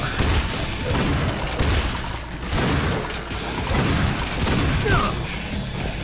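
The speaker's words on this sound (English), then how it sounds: "I should get my shotgun out." Shotgun fire in the video game Painkiller Black: loud, dense booming blasts and crashing impacts over a continuous roar of game action, with no pause for the whole stretch.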